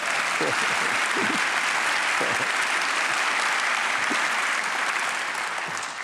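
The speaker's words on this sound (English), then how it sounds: "So please give a round of applause for Sophie." Audience applause at a mayor's State of the City address, a dense, steady wash of clapping from a large crowd that holds loud and even throughout, with a few faint voices and whoops surfacing underneath.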